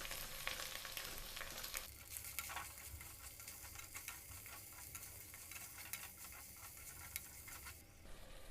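Mushrooms frying with ginger garlic paste for a village-style mushroom curry, a continuous faint sizzle with soft stirring scrapes and light ticking pops from the pan, no voices.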